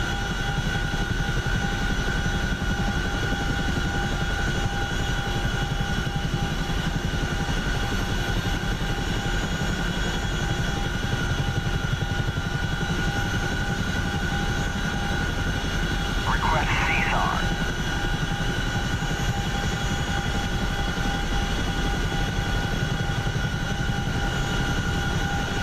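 A helicopter in flight in the combat simulator DCS World, a loud, steady rotor and turbine drone with a constant whine running the whole time, while voices talk over radio in the foreground.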